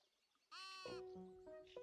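A sheep in the cozy building video game Tiny Glade gives a couple of soft, drawn-out bleats, one after another, clear against a quiet background with no talking.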